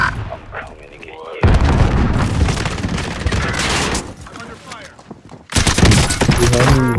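Loud, heavy gunfire in a video game, with dense bursts of shots and booming blasts that come in waves and leave short near-silent gaps between them.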